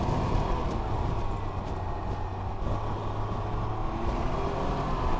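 A Can-Am Ryker 900 Rally three-wheeler rides along with a steady, droning engine hum and broadband road and wind rush, continuous and unvarying throughout, with no voices.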